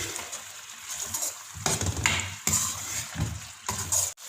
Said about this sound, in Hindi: अब हम इसमें दही ऐड करेंगे। हम इसको अच्छे से भून लेंगे।